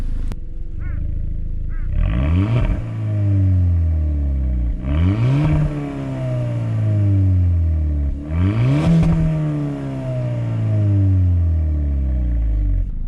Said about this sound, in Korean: 이번에는 i30 N9의 배기음을 한번 들어볼 텐데요